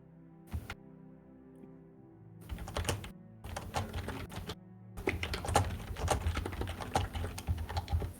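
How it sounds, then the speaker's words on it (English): Fast, furious typing on a computer keyboard, dense bursts of clattering keystrokes broken by brief pauses, close and fairly loud with no talking. "Furious typing."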